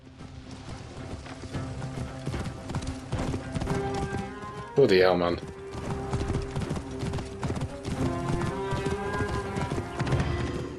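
Galloping horse hooves in Assassin's Creed Origins drum steadily in the foreground for the whole stretch, with a brief neigh partway through and someone talking over the action.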